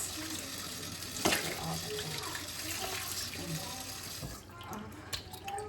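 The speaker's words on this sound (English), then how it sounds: "I'm gonna do a quick one more time rinse here just in case." Pork belly rinsed under a running kitchen tap, a steady splashing water stream close by that thins out toward the end, with a few clatters and handling noises.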